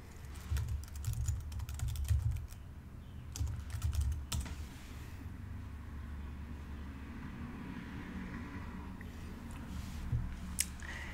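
Keys tapped on a computer keyboard in short bursts of quick clicks, fairly close and moderately quiet, with pauses between runs over a steady low background hum.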